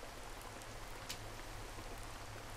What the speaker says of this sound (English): A rainfall this suddenly?